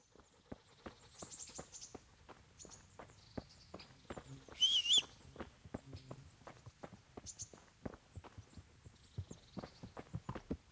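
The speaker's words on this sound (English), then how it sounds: "There's my trusty horse." A horse's hooves clip-clop at a steady walking pace in the medieval video game Kingdom Come: Deliverance, close and moderately loud, with a brief higher sound around the middle.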